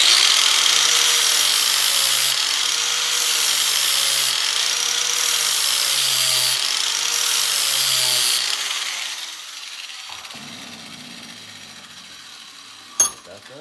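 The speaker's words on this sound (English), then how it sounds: "Once you have a grinding wheel and that flap disc, it puts a nice edge on it and it comes right off." Angle grinder fitted with a flap disc sharpening a John Deere LA105 mower blade, a loud steady whine with repeated rising and falling pitch sweeps as the disc works the edge, then winding down to a quieter hum and a sharp knock near the end.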